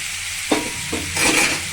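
Pumpkin pieces with turmeric stirred in a pan for a Bengali pumpkin-greens chochchori, giving a couple of close scraping stirs over a steady light sizzle, with no talking.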